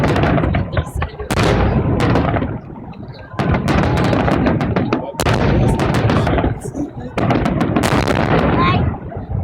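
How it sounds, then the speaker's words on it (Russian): A fireworks display over Voronezh on 9 May 2015 fires repeated heavy booms in bursts, each bang followed by crackling, loud and close, with voices talking between the blasts. "Смотри, салют."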